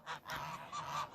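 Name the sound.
geese honking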